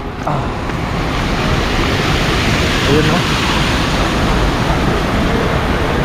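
Strong river current flowing past a newly built bridge near a dam in Laurel, Batangas, a loud continuous rushing wash of water with a brief voice speaking over it.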